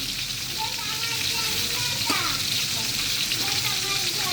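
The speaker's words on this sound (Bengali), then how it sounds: "তো এখন ইলিশ মাছের ভাজি করতেছি" Hilsa fish frying in a pan gives a steady, close sizzle that runs throughout, with faint stirring and a voice speaking over it.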